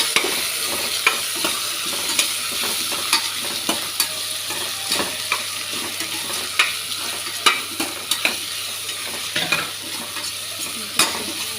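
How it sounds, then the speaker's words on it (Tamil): Garlic, tomato and onion sautéed and stirred in a pan for a chickpea and cashew kurma, with steady sizzling frying and repeated sharp scrapes and taps of a spoon against the pan. "இதெல்லாம் வதக்கி ஆற வைக்கணும்."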